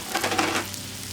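Jalapeno and onion frying in a pan for an open-faced patty melt give off a steady, moderately loud sizzle that hisses more brightly at first, then settles into a softer crackle, with no talking.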